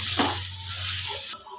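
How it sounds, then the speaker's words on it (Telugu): Masala paste frying in hot oil for a Telangana-style korameenu fish curry, a steady close, loud sizzle that crackles continuously before dropping slightly near the end, with no voices. "పచ్చి వాసన పోయేంత వరకు ఫ్రై చేసుకోవాలి"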